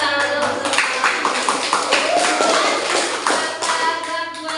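Hand clapping in a classroom lesson, a brief burst of taps and claps mixed with shuffling and faint voices in a reverberant room.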